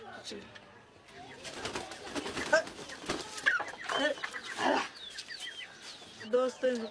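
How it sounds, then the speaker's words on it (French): Chickens clucking and calling close by, overlapping with other bird sounds and a voice in the background. "Ces poulets sont mes amis."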